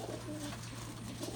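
A pigeon coos softly in a loft in Richmond, Kentucky, one low, faint, muffled call over a steady background hum, with no talking.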